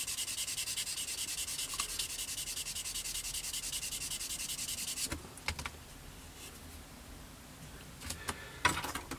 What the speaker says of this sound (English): using the green weathering polishing sanders from the same range, we can just buff this plastic back